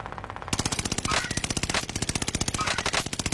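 Rapid automatic fire from the Cooper gun in a shooter video game, a loud, steady stream of closely spaced shots in bursts with brief breaks, close and dominant with no talking.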